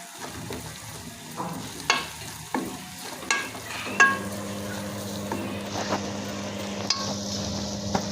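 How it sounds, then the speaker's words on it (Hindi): Four spoonfuls of maida flour roast in a pan after other ingredients have been fried, with a soft sizzle under repeated scraping and stirring strokes. A steady hum joins partway through. No one talks. "अब हमने हल्का से इसे रोस्ट करना है"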